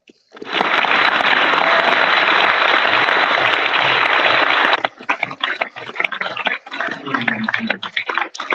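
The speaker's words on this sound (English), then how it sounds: "Please give him a round of applause." Loud, sustained applause from an audience at an Eagle Scout court of honor, rising quickly and holding steady for several seconds before breaking into scattered claps and noise.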